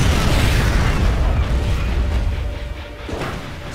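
Loud, broad rumbling blast from a StarCraft 2: Heart of the Swarm battle, a sustained roar of explosions that slowly fades, with a second burst near the end.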